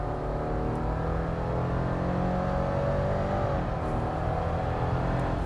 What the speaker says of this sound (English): Automatic, not sport mode, traction on, just flooring it. Hear the sound of the CVT's